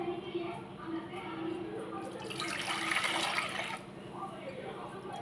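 Water is poured into a cooking pot while making millet and lentil sambar rice, a splashing, rushing pour that swells for a couple of seconds in the middle beneath a woman's ongoing speech.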